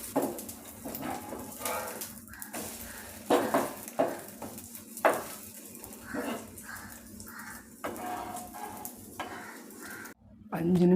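Bread omelette cooks in oil in a home kitchen, with intermittent sizzling, scraping and clattering of a utensil against the pan in uneven bursts, and brief dog-like barks in places.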